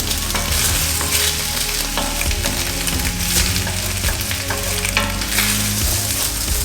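Onions for lamb curry frying in a pan as they are kept moving to soften, a loud continuous sizzle with scraping and clattering stirs throughout.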